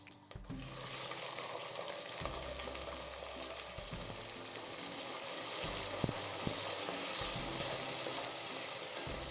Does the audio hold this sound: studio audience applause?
no